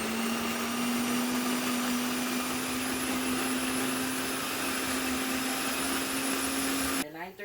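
An electric grinder grinding ancho chili in a home kitchen gives a loud, steady motor whine that runs for about seven seconds and then stops abruptly, leaving a quiet moment.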